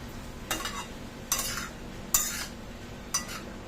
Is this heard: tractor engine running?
no